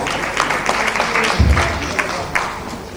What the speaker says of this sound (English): Another resounding applause as she takes the microphone.